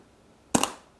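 Red Karnivor MQ2 paintball marker with an E2 1.10 board firing a single shot: one sharp, loud pop that decays quickly, with nothing else around it.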